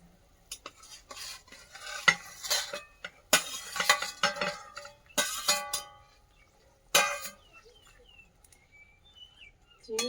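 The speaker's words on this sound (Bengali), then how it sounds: "এবার মাছগুলো দিয়ে দেবো।" Prawns and parshe fish being added to a reduced spicy curry in a pan, with scattered stirring scrapes, sizzling bursts and clatter of a utensil, fairly quiet between louder spells.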